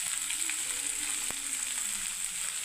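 Tomato and green chillies frying in a pan over low heat, giving a steady, even sizzle with a single soft knock partway through and no talk.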